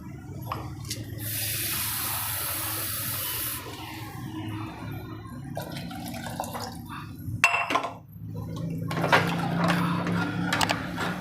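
Water is poured into thick simmering dal for Rajasthani dal bati, a brief splashing pour followed by stirring, rubbing and dripping sounds in the pot.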